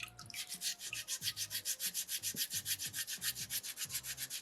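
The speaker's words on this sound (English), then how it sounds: "I just use my thumb and push the sandpaper around with my thumb" Sandpaper pushed by a thumb scuffs over a small soapstone loon carving in quick, even back-and-forth strokes, a close, soft rhythmic rasping repeated about twenty times.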